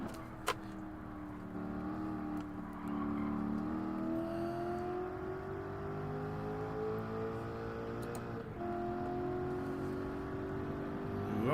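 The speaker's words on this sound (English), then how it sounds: "Do let me know if the car's too loud so I can lower the game volume." A race car on sports hard tires in Gran Turismo 7 hums along with a steady engine note that rises as it accelerates, drops at a gear shift, then climbs again, moderately loud with faint clicks.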